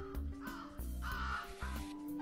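Crows caw repeatedly in a video game, a series of harsh, evenly spaced calls over a steady low game soundscape, with no talking.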